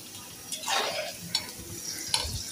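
Fish going into deep hot oil, with a broad sizzling hiss swelling up and lingering, a few stirring scrapes and a sharp clink near the end, close by and fairly quiet, with no talking.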